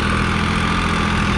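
A New Holland 3630 Plus tractor's diesel engine runs steadily at a constant drone, close and loud, with no talk.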